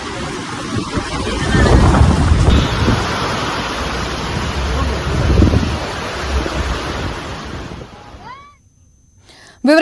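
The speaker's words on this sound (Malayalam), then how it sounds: "മിന്നലും പൊടിക്കാറ്റും ശക്തമായ കാറ്റും മഴയും തുടങ്ങിയത്" Strong wind during a dust storm in Mumbai roars as a loud, continuous buffeting rush with surging gusts, breaking off abruptly near the end.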